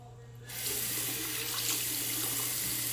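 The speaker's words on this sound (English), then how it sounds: "Go wash my Jade Roller." Tap water runs steadily into a sink to wash a jade roller, a sudden start after a brief quiet moment, then a continuous close rushing stream with no voices.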